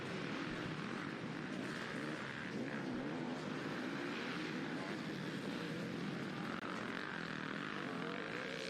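An FPV drone flying over an offroad motocross race at Southwick, with its propeller buzz running as a constant, dense whine throughout and no break in the noise.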